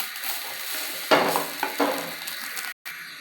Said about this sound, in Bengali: চাউলগুলো আমার ভাজা হয়ে গেছে।